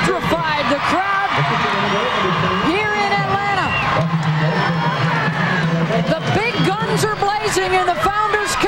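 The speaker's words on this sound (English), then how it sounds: "That has just electrified the crowd." Stadium crowd roaring and cheering after a goal in a 2002 WUSA Founders Cup women's professional soccer match, a loud sustained wall of cheers and whoops with a commentator talking over it.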